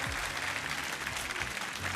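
Steady applause from a crowd for dancers at an outdoor July 14 ball, dense clapping that holds at an even level throughout, with no voices standing out.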